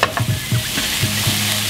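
Spinach sautés in a pan on a stovetop burner, giving a close, steady sizzle broken by several quick stirring scrapes and taps.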